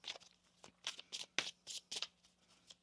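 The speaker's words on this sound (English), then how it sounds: "One more shuffle." Tarot cards being shuffled by hand in a series of quick riffling bursts, about eight short rustling flurries in under three seconds, close and fairly soft, with no talking over them.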